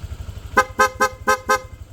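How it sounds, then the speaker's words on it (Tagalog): A PIA horn on a Honda Click V3 motorcycle sounds five short, rapid beeps in an even rhythm, loud and close over the low putter of the idling engine. "PIA horn,"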